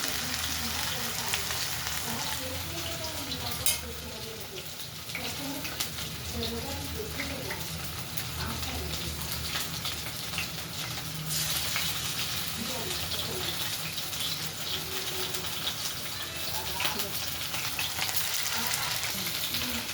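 Paneer pakoras frying in hot oil give a continuous, even sizzle with crackling bursts, close by, while a voice talks quietly underneath.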